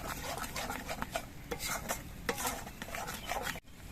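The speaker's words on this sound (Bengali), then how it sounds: "এবার আবার আমি কিছুক্ষণ কষিয়ে নেব এই সময় জালটা কিন্তু খুব আস্তে দিতে হবে" Yogurt sautéing in a pan for doi katla over very low heat, with steady close stirring scrapes and faint sizzle running throughout, ending in a brief pause.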